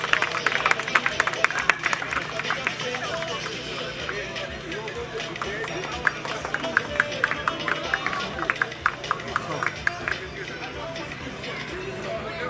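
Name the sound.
applause for the race winner at a hill-climb ceremony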